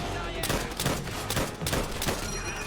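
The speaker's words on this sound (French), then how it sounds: "Hein, la mitrailleuse, si on vise bien." Dense, continuous machine gun fire in the video game Call of Duty: World at War, rapid bursts layered over loud battle noise with no pause.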